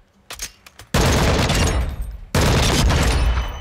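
Full-auto weapon fire in Call of Duty Modern Warfare II DMZ: a few scattered single shots, then two long, loud sustained bursts, close and dominant with no talking.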